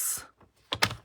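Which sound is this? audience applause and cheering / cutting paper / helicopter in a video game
cutting paper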